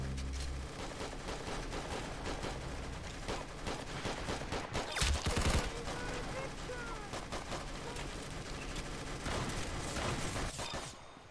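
Rapid bursts of gunfire from a nail gun in the Roblox game Arsenal crackle in quick repeated volleys over busy game sounds, with one louder cluster midway and a player talking at times.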